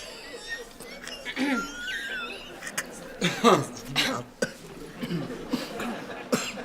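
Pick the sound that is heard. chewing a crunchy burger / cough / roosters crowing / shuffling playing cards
cough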